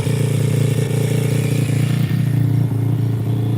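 A custom RFZ motorcycle engine idles steadily after its first start-up, a loud, close, continuous low rumble with a slight clattery edge and small dips in revs, no voices over it.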